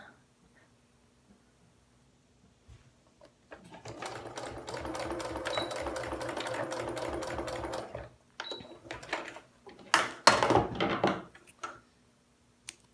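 A sewing machine stitches across a seam on a flannel face mask in one steady run of about four seconds, then stops. A few short bursts and handling clicks of fabric and thread follow.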